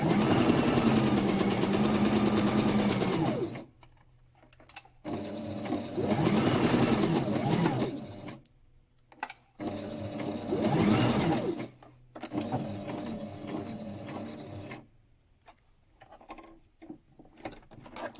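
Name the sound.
sewing machine stitching thick fabric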